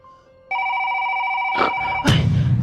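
Telephone ringing, a steady electronic two-tone ring that starts abruptly and holds loud and close, followed by a burst of rustling handling noise as the phone is picked up.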